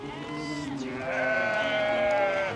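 A sheep bleating near the highland summer pastures of Kəlbəcər, one long wavering bleat that rises and holds before trailing off, close and clear.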